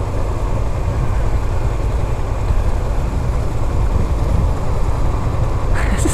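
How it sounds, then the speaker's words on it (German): Car accelerating hard during an illegal street race through a city, a loud continuous roar of engine and road noise heard from close by, steady throughout with no talking. "Das ist richtig Gas geben, Alter."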